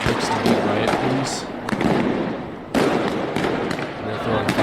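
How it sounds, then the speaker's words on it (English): During a UK street riot, fireworks thrown at riot police go off in sharp, loud cracks and bangs several times over a noisy crowd din, with voices mixed in. "And they're throwing fireworks at them."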